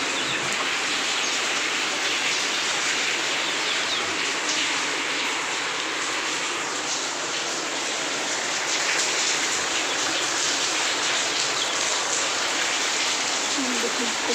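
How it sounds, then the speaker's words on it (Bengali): Rain falls outdoors as a dense, even hiss of drops on surfaces, continuous and fairly loud for the whole stretch. "এখান থেকে বৃষ্টি নেমে গেতেছে, নেমে গেছে অলরেডি।"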